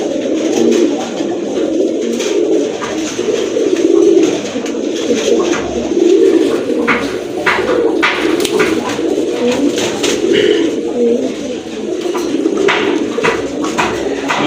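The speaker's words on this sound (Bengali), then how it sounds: "প্রথমে আপনারা দেখতে পাচ্ছেন একজোড়া সিরাজি কবুতর, অনেক বড় সাইজের কবুতর" A pair of large Sirazi pigeons coo steadily and close by, soft repeated low calls filling the whole stretch with short brighter chirps scattered through.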